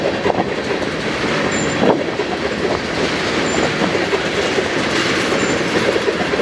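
A freight train of hopper cars rolls past at Tehachapi, a steady loud rumble and rattle of wheels on rails with faint clicks and a few thin high squeals.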